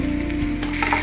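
Onions, ginger, garlic, green chili and curry leaves frying in a pan for egg bajji masala, a steady close sizzle with a few stirring scrapes, no talk.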